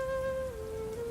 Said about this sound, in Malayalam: നിഷ്കരുണം പെയ്യുന്ന മഴ,